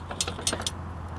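Bunch of car keys jangling in short metallic bursts while someone tries them in the boot lock of a Lada Riva (VAZ 2104) estate, close and fairly quiet over a low steady hum.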